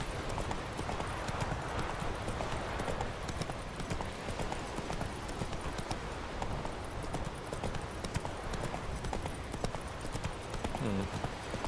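Hooves of Roach, a horse in The Witcher 3, beat continuously in a fast gallop across ground near a beach, loud and close. The clopping stays steady and dense throughout, over a constant layer of game ambience.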